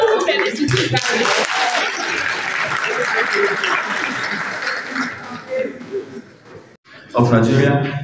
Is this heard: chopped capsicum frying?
no